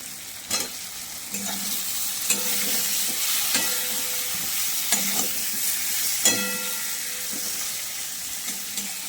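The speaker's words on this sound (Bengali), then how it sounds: "এবার এই টমেটো কুচিয়ে রেখেছি, টমেটোটা দিয়ে দেবো।" Chopped tomato and fried potatoes go into sizzling fish curry masala for koi fish jhol. The loud, continuous frying hiss is broken by repeated scraping stirs.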